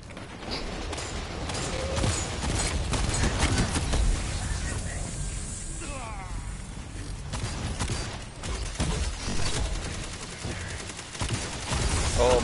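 SMG fire in a video game crackles in rapid bursts amid a busy mix of mechanical clatter and other game effects, with brief stretches of talk in between.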